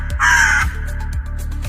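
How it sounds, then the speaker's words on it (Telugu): Two loud, harsh crow caws ring out close by, the first long and strident, over a steady low hum, followed by a quieter stretch of background noise. "కాకి వెళ్ళు."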